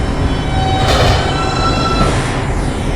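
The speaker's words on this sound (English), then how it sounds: "This is a New Lots Avenue bound 2 train." A New York subway 2 train at Barclays station rumbles loudly along the platform, a continuous close roar of wheels and rail with a faint squeal of steel through the passing cars.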